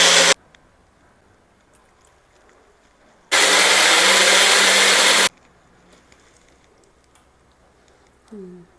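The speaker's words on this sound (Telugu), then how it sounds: "మిక్సీ ఇది కొంచెం పట్టేసుకుందాం, బాగుంటుంది." Kitchen mixer grinder grinding soaked rice for bellam appalu, a loud, steady whirring burst of about two seconds, with a short earlier blip and quiet kitchen room tone around it.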